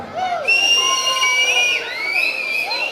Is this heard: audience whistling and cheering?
yes